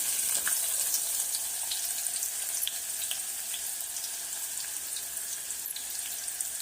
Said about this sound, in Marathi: आलं चांगलं भाजलं की ह्यात आपल्याला कांदा घालून घ्यायचा आहे